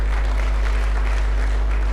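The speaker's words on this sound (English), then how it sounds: "can you clap for him because it's from private sector" An audience claps together at a media lunch event, a steady, dense wash of applause that holds evenly throughout over a low background hum.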